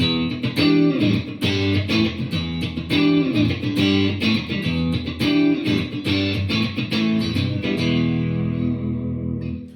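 Steady rhythmic strumming on a Strat-style electric guitar with a Seymour Duncan Twang Banger bridge pickup in fifth position, with close, loud, evenly pulsing chords that ease off and ring out at the end.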